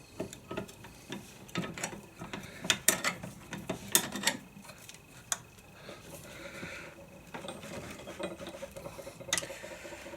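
Socket ratchet tightening Suzuki DR650 sprocket bolts clamped in a vise, with uneven clicking and metallic taps in short bursts and a few louder clanks, close and alone.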